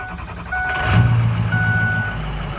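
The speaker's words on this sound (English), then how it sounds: "we're gonna test out the hot start on this thing and see what it does" Hot start of a Ford 6.0 Powerstroke diesel truck engine: a brief cranking whir swells into a loud, deep idling rumble with a steady tonal hum, close by, with no talking.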